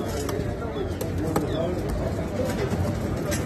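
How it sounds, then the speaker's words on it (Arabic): Shamli pigeons cooing at a crowded Baghdad bird market, soft coos blending into a steady bed of crowd noise and nearby talk, with a few brief clicks throughout. "حمام شاملي."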